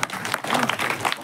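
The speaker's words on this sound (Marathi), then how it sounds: "तुम्ही का बरं टाळ्या वाजवल्या?" Dense applause from an audience at a Marathi kirtan, a steady wash of many hands clapping close by for just over a second, with some faint voices mixed in.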